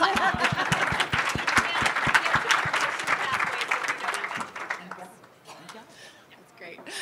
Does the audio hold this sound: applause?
yes